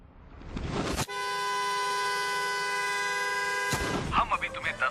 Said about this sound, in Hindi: अगर तुम सब बाहर जाकर अपनी कार का हॉर्न लगातार बजाते हो